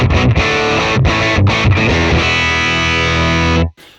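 Heavily overdriven electric guitar through a Fender Mustang GT40 amp on a Princeton preset, loud and saturated, a few choppy chords followed by a long sustained ring that cuts off abruptly.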